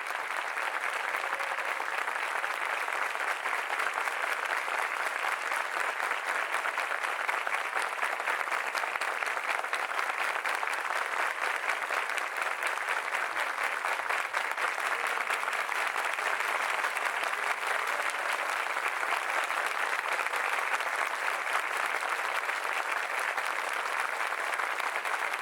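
Sustained crowd applause fills a large venue in tribute to the Chapecoense football team and the people of Chapecó, a dense, steady roar of many hands that holds at an even level for the whole stretch with no voices above it.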